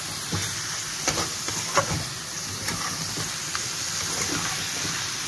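Chicken frying in a pan with a steady close sizzle, broken by repeated scraping and clacking as it is stirred at an uneven pace.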